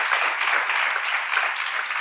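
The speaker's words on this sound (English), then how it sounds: "I think he deserves a round of applause." A crowd applauds steadily, dense clapping filling the whole moment without any speech.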